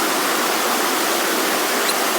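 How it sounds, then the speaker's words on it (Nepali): A natural waterfall at Sundarijal, Kathmandu roars with a steady, dense rush of falling water, close and loud throughout, with no voices. "यस्तो नेचुरल झर्ना हेरेर बस्दा यस्तो मजा आउँछ नि होइन"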